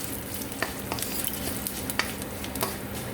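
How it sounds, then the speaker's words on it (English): Fennel seeds and dry red chili fry in hot oil with a steady, close sizzle, broken by small utensil clicks and taps as the pan is stirred, with no talking. "Now we'll slowly let everything nicely fry in the oil"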